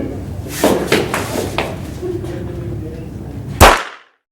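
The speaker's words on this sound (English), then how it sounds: "What was that? It sounded like gunfire." A gunshot sound effect in a school stage play gives one sharp loud crack near the end. Scattered knocks and stage noise come before it, and a voice is heard faintly.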